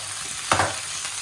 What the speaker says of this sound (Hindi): फ्राई हो रहे हैं